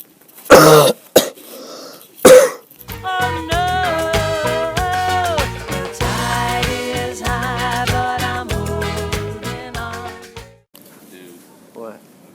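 A person coughs twice, hard and close, near the start; steady music then takes over for most of the rest.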